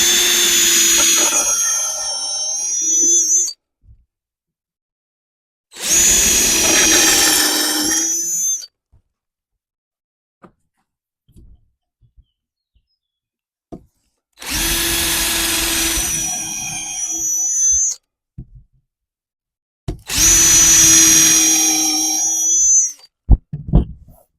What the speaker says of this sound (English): We're going to go ahead and pre-drill them.